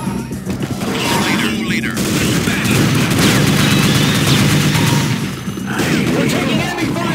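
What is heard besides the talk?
gunfire in Unreal Tournament, from a video game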